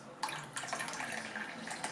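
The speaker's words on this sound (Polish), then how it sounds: "doleję wody, ale nie tak do połowy papryk" Water pours from a vessel into a pot of meatless stuffed peppers, a short soft splashing trickle that starts abruptly and runs steadily for about two seconds at low volume.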